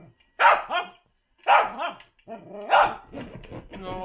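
A pet dog barks in three short bursts close to the microphone, each bark followed by a whiny yip, with brief pauses between them.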